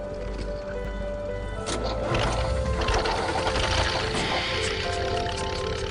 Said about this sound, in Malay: Oh ya, kan tengah mesin jahit.